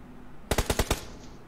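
A quick burst of five rapid gunshots in PUBG on the Erangel map, evenly spaced and loud, standing alone against a quiet game background.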